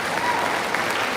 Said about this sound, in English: Would you please stand at this time so we could give you a round of applause?